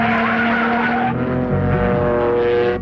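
Race cars at Bathurst squeal and skid, tires screeching in a long sustained slide over roaring engines, loud and close with a pitch shift near the end.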